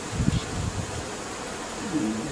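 Honeybees buzz inside an observation beehive, a soft low hum with faint rustling as the colony moves about the frames, heard close and quiet.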